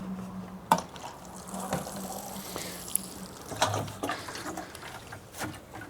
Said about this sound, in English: Just a little bit of water to get some good root contact.